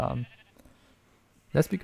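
Sheep bleating in Minecraft, one short bleat at the start and another near the end, fairly close with a quiet gap between.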